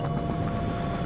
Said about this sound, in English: The helicopter crew prepares for liftoff